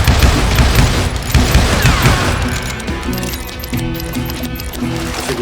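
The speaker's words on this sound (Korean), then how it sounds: "배치하고 수류탄 한번 던져주고" A grenade explodes in the Wild West shooter game Call of Juarez: Gunslinger: a loud, close blast with crackling debris, settling into a rumbling tail while tonal game music carries on underneath.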